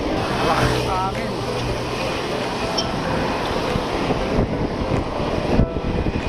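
Strong wind roars and buffets steadily over a motorbike rider on a city ride, a dense, continuous rush filling the whole stretch with a voice briefly above it.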